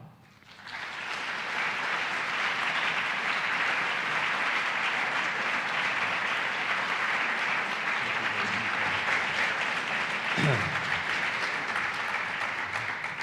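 Audience applause welcoming Dr. Philip Kotler to a marketing talk, a steady full-room clapping that swells in within the first second and holds loud and even throughout.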